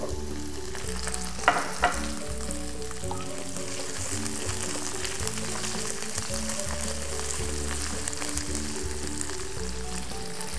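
Onions fry and sizzle in a pan under steady stirring, with a couple of sharper clanks early on and a constant close crackle throughout, no talk.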